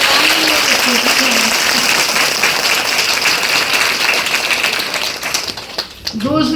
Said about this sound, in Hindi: इसलिए बहुत जोर से सभी तालियां बजाएंगे।